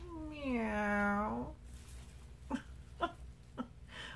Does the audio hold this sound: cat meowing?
yes